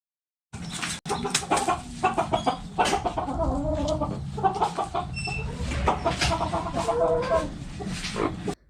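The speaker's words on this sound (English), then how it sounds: "the rooster will come up and greet you in the graveyard" A rooster clucks and crows close by in a graveyard in a series of throaty calls, with softer bird chatter around it.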